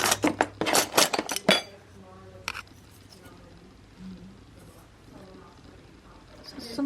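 Antique spoons and silverware clink and rattle together in a quick burst of metallic taps, then fall quiet apart from occasional faint knocks and soft background murmurs.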